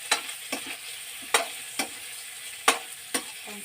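Chili and shallots stir-fried in a pan for a Thai northern-style gourd and pork curry, with a utensil scraping and clacking in sharp, irregular strokes over a steady, faint sizzle, close by with no talking.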